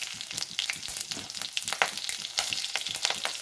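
Green chillies hitting hot oil in a mustard-seed and cumin tempering for an urad dal wadi curry: close, busy sizzling with sharp crackles and pops throughout, no voices.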